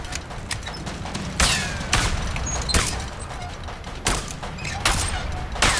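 Gunfire in the video game A Way Out, a string of sharp loud shots spaced unevenly across a firefight with a few cracking bursts over a constant background din.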